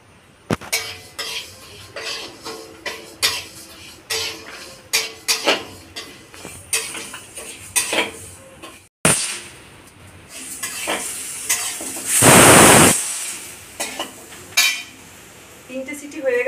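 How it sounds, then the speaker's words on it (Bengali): Moong dal is roasted in a hot kadai for khichuri, with a spatula scraping and clinking against the metal in an uneven rhythm. A loud burst of hissing comes near the end. "কড়াই গরম হয়ে গেছে, মুগ ডালটা আমি ভেজে নেব।"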